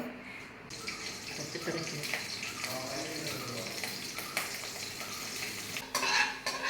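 A pan crackles and sizzles steadily as food fries in ghee while a utensil stirs and scrapes, with a few louder clatters toward the end.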